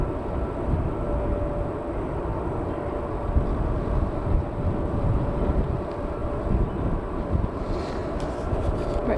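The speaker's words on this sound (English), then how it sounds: "On approach we've got an ATR 72-600 Aer Lingus from Belfast. It's one of the propeller aircraft." An Aer Lingus ATR 72-600 turboprop flies in on approach at Manchester Airport, a steady, fairly loud rumbling drone with a faint high whine, mixed with wind noise and heard from the ground.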